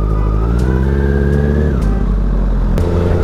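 A BMW motorcycle pulls away with a loud, close engine note that climbs through the revs, drops briefly at a gear change and rises again, with nobody talking.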